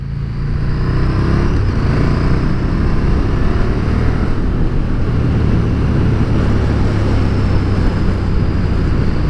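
A KTM 1290 Super Duke R's big V-twin engine runs loud and close, a steady deep rumble with constant drone and faint rising pitch sweeps, no talking over it.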